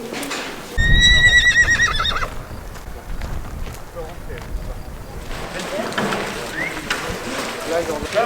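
A horse at an agricultural school gives a loud, close whinny, followed by hooves clip-clopping and stable bustle, while people talk in the background.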